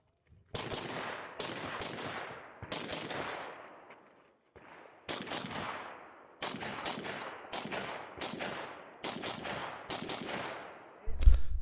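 Rifle shots ring out at a competition two-gun shooting stage, about nine loud, sharp reports spaced a second or so apart, each with a ringing tail, the rhythm briefly pausing midway.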